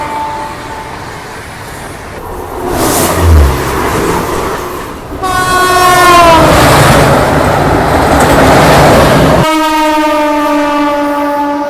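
A special train on the Sabarmati–Haridwar run pulls into a station with a loud mechanical rumble, then sounds its horn in long, sustained blasts near the end.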